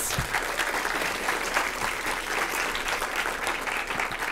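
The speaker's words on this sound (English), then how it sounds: "another big round of applause, please, for our speakers" An audience at a summit session on pollinator programs applauds its speakers, a steady, moderately loud spread of many hands clapping with a few sharper nearby claps standing out, continuing without talk.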